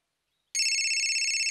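An electronic phone ringtone starts abruptly after a brief silence and plays steadily, loud and close.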